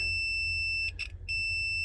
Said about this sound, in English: So testing for continuity if it actually beeps.